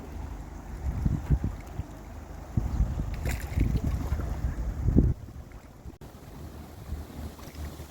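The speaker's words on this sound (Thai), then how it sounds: "เรือใหญ่ออกอยู่แล้วค่ะเรือใหญ่" A large fishing boat heads out to sea off Norway, a low, distant engine rumble rising and falling beneath gusty wind buffeting the microphone.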